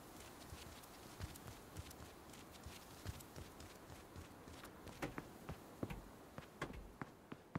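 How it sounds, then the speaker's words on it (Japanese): Footsteps in the PS4 Pro version of the battle royale game H1Z1 tap out a quick, regular rhythm of sharp thuds, quiet at first and growing more distinct over a low background hiss. "めっちゃ足音するんだけど"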